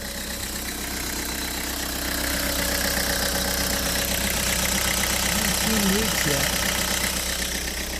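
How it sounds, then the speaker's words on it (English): A Toyota HiAce diesel 4x4 turbo van idles outdoors beside a row of other vans, giving a steady, even low rumble with faint knocking that holds unchanged for the whole stretch. "we got our Toyota Hi-Ace out here idling with the lineup of vans"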